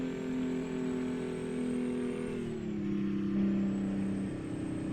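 Kenworth K100 cabover truck with a 6V engine in American Truck Simulator, a steady droning diesel hum with a gear shift midway, heard continuously with no talk.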